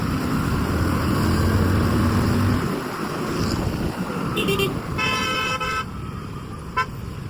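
Busy city road traffic during a bike ride in Khairatabad, Hyderabad, gives a loud continuous engine rumble, with several short car horn toots sounding nearby in the second half.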